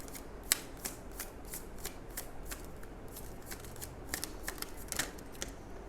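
Tarot cards being shuffled and pulled from a deck, soft riffling and light flicking taps, close and quiet, steady throughout with a few sharper card snaps and no talk.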